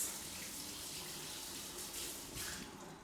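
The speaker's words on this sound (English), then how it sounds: "Let me just give my hands a quick rinse." A kitchen tap runs steadily as hands are given a quick rinse, a constant soft hiss of flowing water with faint splashing and no voices.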